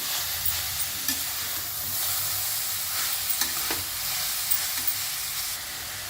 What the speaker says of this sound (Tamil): முதல்ல இதை நெய்யில் நல்லா அப்படியே ஃப்ரை பண்ணிடுறோம்.